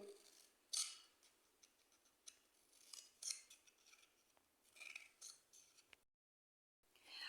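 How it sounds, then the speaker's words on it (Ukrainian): Scissors snipping a cardboard tube into strips, a quiet close series of irregular crisp cuts with short pauses and a brief silent gap near the end. "Беремо втулку і будемо різати на смужечки по колу."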